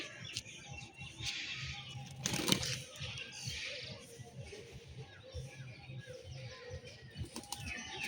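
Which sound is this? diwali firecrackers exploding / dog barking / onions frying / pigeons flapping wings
pigeons flapping wings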